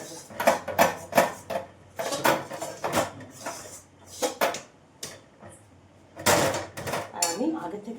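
A utensil repeatedly scraping and clattering against a hot kadai with the heat off, close, uneven metallic knocks and scrapes in quick bursts with short pauses between.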